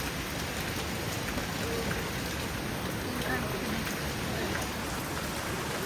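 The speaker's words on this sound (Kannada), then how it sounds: "ಮಳೆ ಬರ್ತಿದೆ ಗೈಸ್." Steady rain falls outdoors on a trip around Udupi, a dense, even patter of drops that holds constant throughout at moderate level, with no voices heard.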